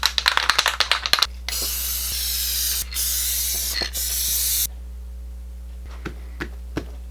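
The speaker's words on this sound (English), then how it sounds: "I'm going to use some spray adhesive to attach the two together." Rapid short rattling spray bursts give way to long, steady hissing sprays from an aerosol can of spray adhesive, close by, followed by light clicks and taps.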